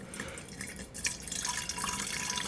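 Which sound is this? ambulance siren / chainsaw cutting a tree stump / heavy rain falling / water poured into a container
water poured into a container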